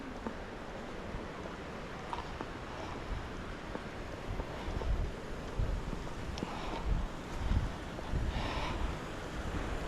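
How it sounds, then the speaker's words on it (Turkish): Steady broadband rush of the Tomara waterfall and its flowing stream, a continuous roar of falling and running water with slight surges, heard alone without talk. "sesini duyuyorum şelalenin."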